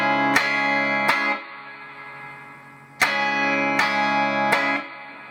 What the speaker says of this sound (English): the strumming is you've got to do two sort of aggressive upward strokes,